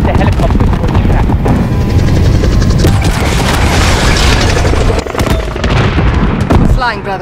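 In the Call of Duty Modern Warfare airbase assault, heavy booming blasts and a loud mechanical rumble from a helicopter crash roar continuously up close, with voices speaking over the chaotic, dense wall of noise.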